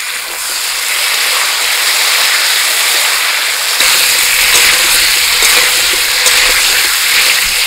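Potatoes fry in oil left over from frying fish, giving a loud, dense, continuous hiss of sizzling close by with faint crackles and no talking.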